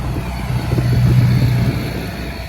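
A tractor pulling a 9-metre rotary harrow across a field at 10-11 km/h gives a steady low engine drone that swells slightly mid-clip and then eases, with no talk over it.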